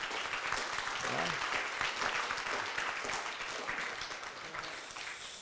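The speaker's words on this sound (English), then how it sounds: "So give ourselves a huge round of applause." Applause from the audience at a youth summit, steady, broad clapping from many hands heard fairly softly through the whole stretch, with a voice speaking briefly over it near the start.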